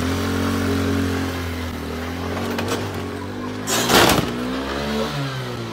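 A stolen 21-plate moped's engine revs steadily in the street, then surges in a brief louder burst near the end before settling back to a droning idle.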